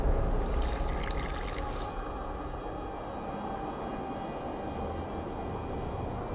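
Water trickles and drips steadily during alchemy crafting in the video game The Witcher 2, a close, continuous liquid pour with a brighter splashy burst early on, no voices present.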